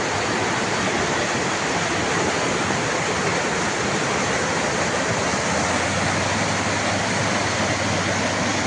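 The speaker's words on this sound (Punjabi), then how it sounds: "ਦੇਖੋ ਪਾਣੀ ਦੀ ਛੱਲਾਂ ਕਿਵੇਂ ਪੈ ਰਹੀ ਬਹੁਤ ਪਾਣੀ" A loud, unbroken roar of floodwater rushing in waves fills the scene near Panjaura, Garhshankar, Hoshiarpur, dense and steady like a swollen torrent surging past.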